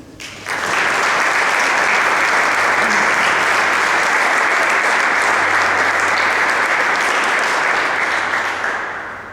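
An audience at an evening book presentation on government fundamentals bursts into loud, sustained applause that starts abruptly, holds dense and even for several seconds, then tapers off.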